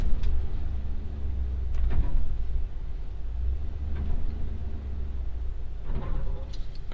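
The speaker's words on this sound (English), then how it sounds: "I'm gonna go ahead and pull on the scale" Heavy truck idling and creeping forward onto a CAT scale, a low diesel rumble from inside the cab with a few knocks and clunks as the tires roll onto the plates.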